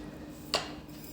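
A small metal pot is set down inside a pressure cooker holding water, giving one short, fairly close metallic clank against a quiet kitchen background.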